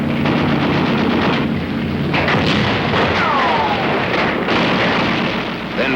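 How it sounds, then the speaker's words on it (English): Old Korean War film footage carries a dense, loud barrage of small arms and heavier gunfire with booming impacts, forming a continuous rumbling clatter throughout. "whoever runs gets cut down with small arms fire"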